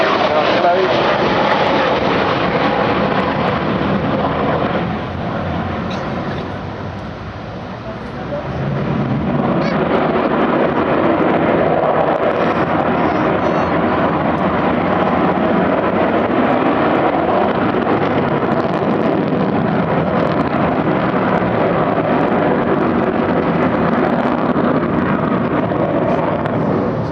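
An Avro Vulcan bomber flies past at the Bournemouth air show in 2014, its engines giving a loud, continuous roar that swells and dips. A commentator talks over the sound.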